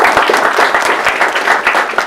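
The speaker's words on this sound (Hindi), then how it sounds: "एक बार तालियां आप अपने लिए बजाएं।" A comedy show audience claps for themselves, a loud, close burst of many hands with distinct rhythmic sharp claps threading through the dense applause.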